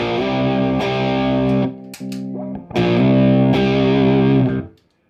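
An electric guitar plays through a Fender reissue of the Sunn Model T amplifier, with EQ set at 5. It rings out loud, distorted sustained chords with a short break in the middle, then fades out.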